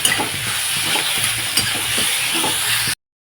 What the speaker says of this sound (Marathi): तीन टोमॅटो मी हे चिरून घेतलेले होते त्यांना पण थोडेसे फ्राय करून घेते मी